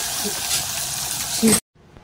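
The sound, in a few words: garlic and curry leaves sizzling in oil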